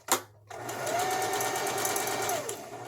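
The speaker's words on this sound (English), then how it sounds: "A couple of stitches, let go of the thread and then back stitch." A sewing machine stitching fabric, running in a steady fast whir with a faint rising and falling motor tone after a brief bump at the start, close and alone without talk.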